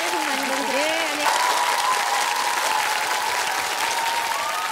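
Sustained studio audience applause for actress Kim Hye-soo on a KBS variety show, thick continuous clapping throughout, with a short stretch of music or voice tones rising over it near the start.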